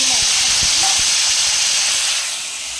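Small tomatoes frying in a pan after onions are taken out, a loud steady hiss and sizzle with a few soft knocks early on, continuous and close.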